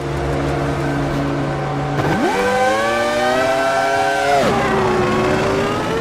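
A simulated 2001 Ferrari Formula One V10 in a racing game screams close up, holding a steady pitch, then climbing sharply through a rising rev before easing back to a lower drone.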